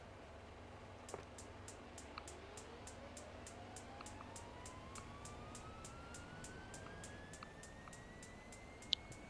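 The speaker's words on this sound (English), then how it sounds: "And we'll kick on engine 1 here." Engine 1 of a King Air 350 turboprop starting in the X-Plane 11 flight simulator: a faint, rising turbine whine climbs steadily over several seconds against a regular ticking clicker and a low steady hum.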